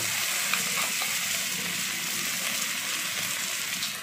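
Chopped onion frying in leftover fish-frying oil with a pinch of cumin, white chillies and five-spice, a soft, steady sizzle heard close and alone.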